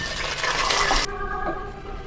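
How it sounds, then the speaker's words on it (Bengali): Hot water pouring into a pot of pilaf with spices, garlic and ginger paste, a loud rushing gush that cuts off abruptly midway, followed by quieter hiss and faint dripping. "এই পর্যায়ে পর্যায়ে আমি পোলাওতে গরম পানি দিয়ে দিয়েছি"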